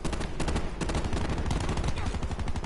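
Dense rapid automatic gunfire in Black Ops 4, loud and close, a continuous rattling stream of shots hitting the player with no pause through the whole stretch.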